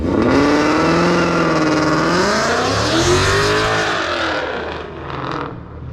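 A car engine fitted with a Roush cold air intake revs up loud and close, its pitch rising and falling through a sustained roar that fades slightly at the end.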